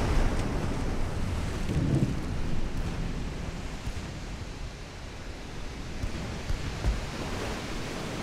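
Stormy sea weather in the naval game Ultimate Admiral: Dreadnoughts, set around Italian ships in 1890: a steady, loud roar of wind and surging waves with low rumbling swells, continuous throughout and no talking.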